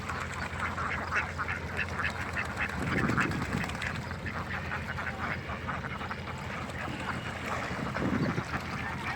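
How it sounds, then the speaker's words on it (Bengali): Several ducks penned in a net quack continuously nearby while eating paddy grain in water, overlapping in a busy chorus with soft splashing in the background. "এই যে হাঁসের খাদ্য দিছি"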